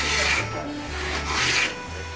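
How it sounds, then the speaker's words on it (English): Edges of wooden Pygmy kayak deck shear panels being beveled at a boatbuilding class, two close rasping strokes of a hand tool scraping across the wood, alone. "now that you got the deck shear panels beveled"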